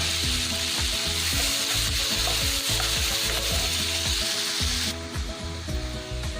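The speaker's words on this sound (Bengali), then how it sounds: "এবার এতে খুব মিহি করে কাটা পেঁয়াজের কুচি দিয়ে দেব" Finely chopped onion frying in hot oil with golden garlic for palak paneer, a loud dense sizzle with rhythmic clattering stirs, dropping slightly in level near the end.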